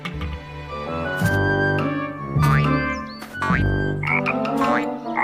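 A cartoon frog gives a series of loud, springy croaks with twangy, boing-like swoops. They come in bursts over a few seconds and stand alone with no talk.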